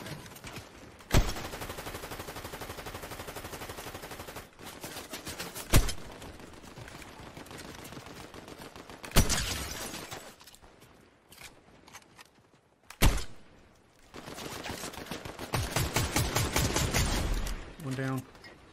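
Gunfire in the video game Fortnite comes in several loud bursts and single shots at varying distances, mixed with mechanical creaks and footsteps, while players talk over much of it.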